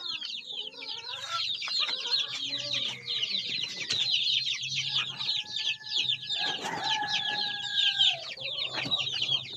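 A flock of chickens clucks and chirps continuously nearby, with overlapping calls and a few drawn-out squawks.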